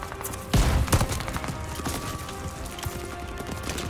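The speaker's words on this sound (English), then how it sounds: "Who's shooting at me?" Gunfire in the video game Call of Duty: Vanguard on Xbox Series X: two sharp, loud shots come close together early, then smaller scattered pops continue over steady background noise.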